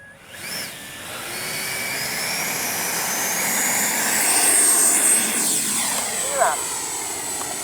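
A Freewing Yak 130 radio-controlled jet with a 70mm ducted fan makes a speed run, its whine rising and sweeping past overhead with a Doppler shift in pitch, loud and continuous across the outdoor field.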